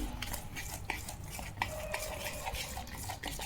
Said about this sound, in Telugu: వేసుకుని బాగా మిక్స్ చేసుకోవాలి.